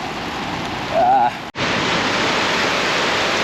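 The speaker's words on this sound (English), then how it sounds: "it's raining a lot" Heavy rain pours down in a dense, continuous hiss, loud and close, with a brief whistle-like tone and a sharp momentary dropout partway through.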